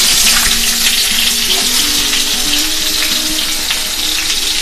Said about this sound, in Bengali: পটল ভাজার জন্য তেল দিচ্ছি,